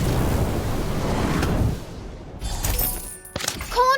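A fire spell from the Harry Potter Magic Awakened video game erupts in a loud, dense burst of crackling noise that cuts off sharply, followed by brief clattering effects and chiming tones.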